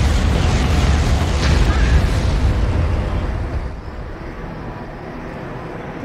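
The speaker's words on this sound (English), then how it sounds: "Initiate bombing run." Heavy explosions from a bombing run in the Star Wars Empire at War video game roll into one loud, dense rumbling blast that slowly fades away.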